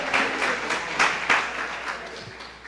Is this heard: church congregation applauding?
yes